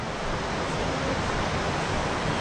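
Steady, loud rushing of flowing water fills the air without a break on the way up the Páramo Frontino near Urrao, Colombia.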